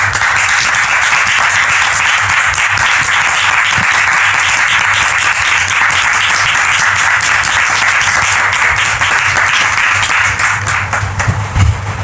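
A large audience breaks into sustained, loud applause that holds steady at a dense, even level throughout, with a low hum underneath and no talk over it.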